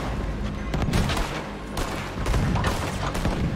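Cannon shots boom in Red Dead Redemption, a rapid barrage of loud, heavy blasts overlapping in irregular bursts without any talking.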